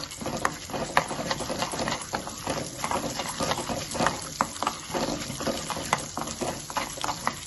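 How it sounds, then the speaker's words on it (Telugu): Cumin seeds and chana dal fry in a pan for a coconut tomato chutney, giving a steady, crackling sizzle with scattered pops and stirring noise throughout. "జీలకర్ర ఇవి కొద్దిగా వేగిద్దాం."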